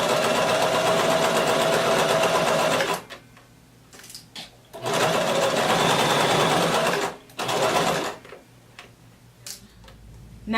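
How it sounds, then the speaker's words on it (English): Sewing machine running around the casing of an off-the-shoulder maxi dress in two loud, steady bursts of fast ticking whir, separated by quiet pauses with faint handling clicks. "So go ahead and lower your needle, begin sewing, back stitch, And let's just sew all the way around."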